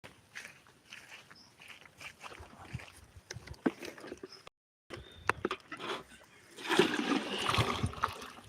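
Water splashes and sloshes while someone fetches water for cows outdoors, with irregular movement and footstep-like shuffles that grow louder and denser toward the end.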